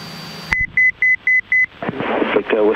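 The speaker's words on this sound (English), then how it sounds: "we've got a beep there alerting us that we've gone away from our predetermined altitude" A Bendix King KAP140 autopilot in a light aircraft in flight gives an altitude alert of five short, evenly spaced electronic beeps over cockpit engine drone, after which a voice speaks.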